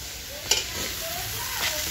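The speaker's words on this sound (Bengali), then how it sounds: "এখানে হচ্ছে আলু ভাজা হচ্ছে" Potatoes sizzle in hot oil in a kadai at an outdoor picnic cookout, a steady hiss running throughout with a brief stirring clatter near the start.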